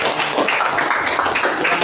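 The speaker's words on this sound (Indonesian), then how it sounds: "Oke, tepuk tangan untuk kelompok 1." Classmates clap for presenting group 1 in a classroom, a short, close burst of uneven hand claps with voices mixed in.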